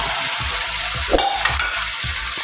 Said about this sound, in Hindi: चिकन को भी इसके साथ हम फ्राई करेंगे